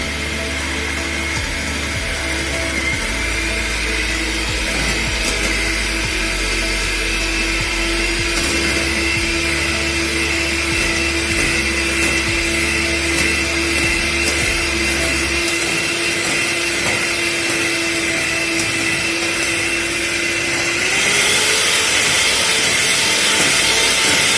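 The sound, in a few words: electric beater whipping egg whites for Japanese cheesecake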